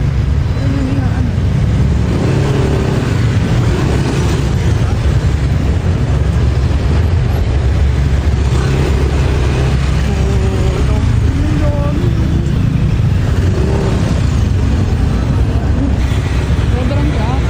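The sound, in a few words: heavy road traffic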